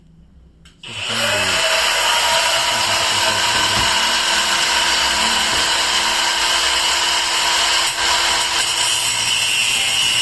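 A Dongcheng DCSM03-100 cordless brushless angle grinder spins up after a brief pause and then runs steadily at a high, loud whine for about nine seconds, with no one talking.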